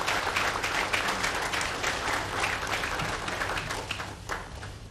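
Crowd applause fills a formal closing ceremony in the DR Congo attended by the president, a dense, steady clapping from a large assembly that gradually thins toward the end, with a low hum underneath.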